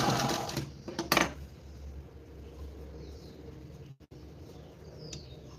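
A sewing machine runs steadily while stitching along the outer side of a garment, a continuous low mechanical hum throughout with a brief louder burst near the start and a short pause toward the end.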